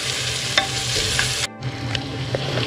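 Mutton trotters sizzle and crackle in hot oil with spices and garlic while being stirred, a steady close frying hiss with a brief pause partway through.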